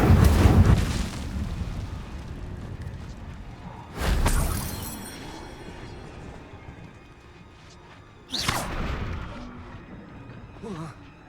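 An Incendio fire spell is cast repeatedly in Hogwarts Legacy on PS5: three loud whooshing bursts about four seconds apart, each flaring sharply and then fading into a lingering roar.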